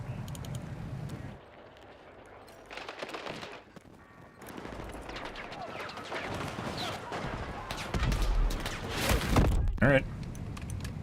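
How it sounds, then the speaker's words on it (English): Rapid automatic gunfire bursts in the Battlefield 6 video game, growing denser and louder toward the end, with sharp cracks over a steady mix of game noise and faint keyboard clicks. "We're dumping mags into people and it's not doing shit"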